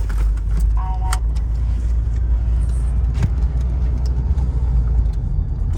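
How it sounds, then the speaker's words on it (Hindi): A taxi moving off through heavy Bangkok traffic, heard from inside as a steady low engine and road rumble, with a faint jingle of keys early on and a few small knocks, and no talking. "तो ये टैक्सी चला दी इन्होंने, गाड़ी मूवमेंट स्टार्ट कर दी है।"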